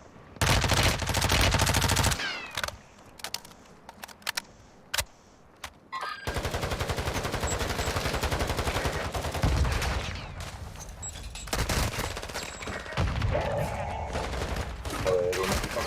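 Loud bursts of automatic gunfire and single shots in the video game Warzone 2.0, with rapid fusillades early, a lull of scattered shots, then sustained firing and game noise under occasional voices.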